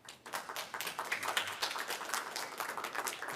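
Audience applause breaks out in a city council meeting chamber, a brisk, crowded burst of clapping that holds steady and fairly loud for a few seconds, with no talking over it.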